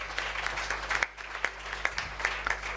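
A church congregation applauds in bursts of clapping, fairly close and steady, with a low hum underneath and a brief pause partway through.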